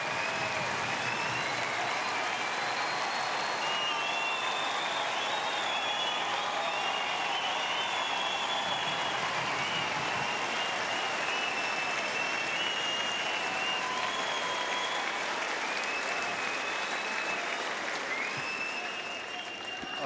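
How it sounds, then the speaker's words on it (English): A packed tennis crowd at Rod Laver Arena after the 2009 Australian Open final between Nadal and Federer gives loud, sustained applause with cheering and whistles, dense and continuous for the whole stretch. "I think your applause says it all,"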